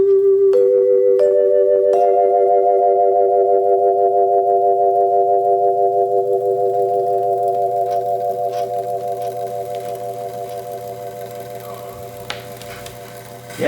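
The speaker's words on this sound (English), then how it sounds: "it turns those dampers to give a wah-wah sound" A steady organ-like tone sustains with a slow, pulsing wah-wah wobble from turning dampers, gradually softening and fading over several seconds.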